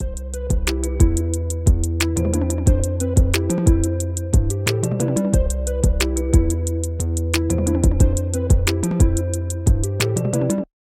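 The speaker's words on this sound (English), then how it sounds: "So we'll go ahead and drag in Big Dreams beat, and that's gonna sound like this." Programmed drum loop called Big Dreams from the Logic Pro loop browser, a steady repeating beat of punchy kicks, snares and bright hi-hats with tonal bass layers, loud and continuous for about ten seconds before stopping abruptly.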